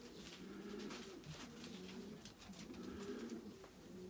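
A red mealy cock racing pigeon, a four-year-old bird, coos in repeated low throaty phrases close by, with a faint hiss underneath and no speech.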